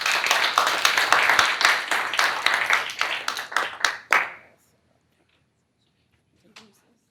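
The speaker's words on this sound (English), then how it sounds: "please give her a round of applause" Audience applause at a blockchain conference session, dense clapping for about four seconds that thins out and stops abruptly, followed by near silence.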